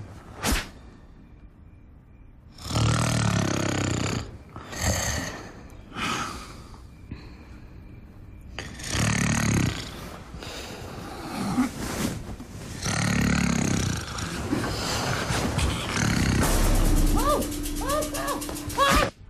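A voice imitates loud snoring with a run of heavy snorts, grunts and rasping breaths in uneven bursts, some overlapping with voices.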